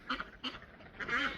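A duck named Jackie quacks in a barn among chickens: three short, nasal quacks close by, the last one longer and louder, with no talking.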